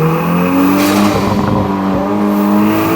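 Turbocharged 2-litre engine of a VW Mk8 Golf R with resonators and mufflers removed, a loud, close, raw exhaust drone holding steady revs with a slight rise and a faint pop or crackle midway, no talking.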